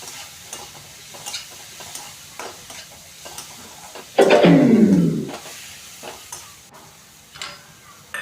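Tomato with turmeric sautéing in a pan while cooking upma, a brief loud sizzle flaring up for about a second then fading, with soft stirring clicks and quiet kitchen ambience around it.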